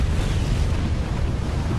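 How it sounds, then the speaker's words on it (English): Lava entering the ocean bursting as waves strike it, a continuous deep roaring, rumbling blast with wind noise on the microphone, loud and close throughout. "When the lava going into the ocean is struck by incoming waves, gobs of lava fly through the air, showering the bench with danger."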